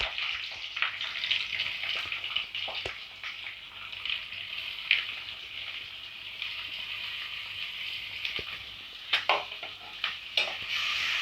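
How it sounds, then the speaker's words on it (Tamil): Finely chopped onions fry in a pan for a prawn gravy with a soft continuous sizzle, broken by scattered scraping clinks as a spoon stirs them. No one speaks. "நல்லா கோல்டன் ஃப்ரை ஆகிற வரைக்கும் வதக்கி விட்டுட்டே இருங்க"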